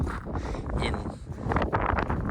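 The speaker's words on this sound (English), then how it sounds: "It's very windy." Strong wind on the northern part of Russky Island, Russia, buffets the microphone in loud, continuous low rumbling gusts with a faint voice briefly audible in the background.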